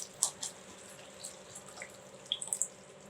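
Tamarind water is poured into a coconut trevally fish curry, giving a few soft, close splashes and trickles over a quiet background.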